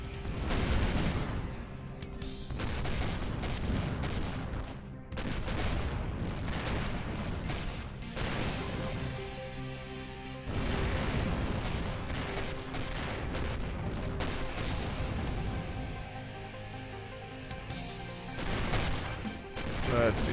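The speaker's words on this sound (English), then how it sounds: "we don't have enough crew to sustain the sheer number of guns that we're trying to fire" Spaceship guns firing in the Avorion space game, a dense, continuous barrage of rapid overlapping shots and crashing impacts that holds steady and loud for the whole stretch, with only brief dips.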